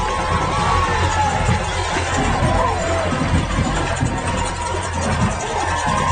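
A large crowd at a night high school football game between Rison and Fordyce at Paul Bear Bryant Stadium keeps up a loud, continuous roar of cheering and shouting, steady throughout with no single voice standing out.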